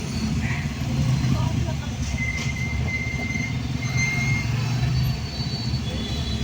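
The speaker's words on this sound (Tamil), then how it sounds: "கோபி டிராஃபிக்" Road traffic in Gobi, a steady, loud rumble of passing vehicles with continuous engine and tyre noise and a brief higher whine, close by and unbroken throughout.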